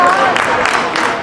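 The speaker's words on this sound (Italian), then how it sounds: "Facciamo un applauso, facciamo sentire." Brief burst of audience applause and crowd noise at an International Women's Day event against violence on women, a steady wash of clapping lasting about a second.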